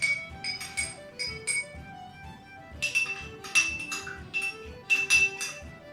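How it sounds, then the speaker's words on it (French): A spoon stirs an Irish coffee cocktail in a glass, making repeated close, bright clinks and light rattles in irregular bursts, alone with no talking. "je viens mélanger mon cocktail"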